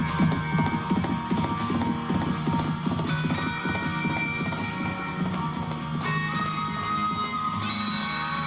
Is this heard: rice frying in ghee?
no